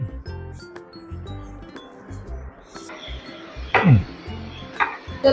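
A knife cuts a bar of homemade turmeric soap into small pieces, giving a run of soft, close knocks on a board with a few sharper clinks from a dish or utensil near the end.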